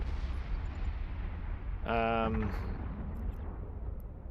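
Ship weapons in Eve Online fire on a structure over a steady low rumble of space ambience, a short burst of rapid rhythmic pulses standing out for about half a second.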